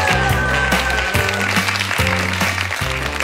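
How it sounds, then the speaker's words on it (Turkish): A television show studio audience applauds as a guest walks onto the set. The clapping is loud and dense, layered over a pulsing music track, with no talk. "Alkışlarla Şirin Ana geliyor."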